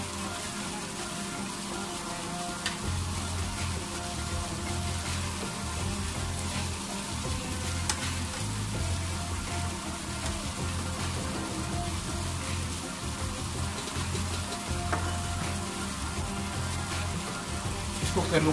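Carrot, potato, peas and fenugreek leaves frying in a pan, a steady close sizzle with rustling stirring that continues without a break.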